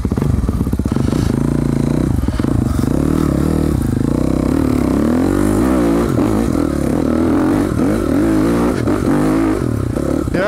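A dirt bike engine revs hard and loud up close while climbing a steep trail, the throttle rising and falling continuously with clattering and scraping from the bike and terrain.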